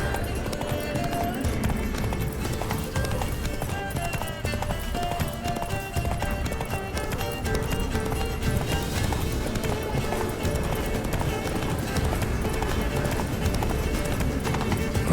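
Roach the horse gallops in The Witcher 3: Wild Hunt, with rapid, steady hoofbeats running the whole way through, mixed with game sound and voices.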